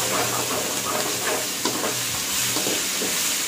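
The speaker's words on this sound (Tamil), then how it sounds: "எண்ணெய் ஊற்றிட்டு கடுகு போட்டுட்டு நெக்ஸ்ட்டு வந்து சின்ன பொடி பொடியாக நறுக்கி வச்ச வெங்காயத்தை போடுறோம்" Onions, ginger-garlic paste and mustard seeds frying in hot oil for mutton kuzhambu, giving a steady, dense sizzle with faint crackles and stirring throughout, close and fairly loud, with no voices.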